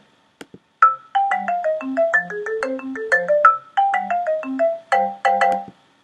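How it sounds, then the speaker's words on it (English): A bright marimba in a music app plays a quick, bouncy melody of short struck notes, clean and close with small pauses between phrases. "You could try it with a marimba"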